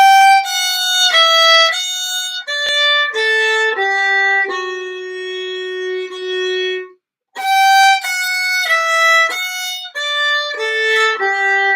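Solo Scottish fiddle plays bars 3 and 4 of a tune's A part, starting from a G pickup note, with clean bowed notes in a flowing phrase, one long sustained tone, a brief pause, then the phrase repeats.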